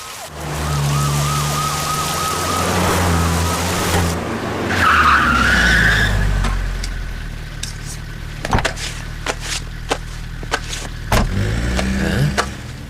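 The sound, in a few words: police cars arriving with sirens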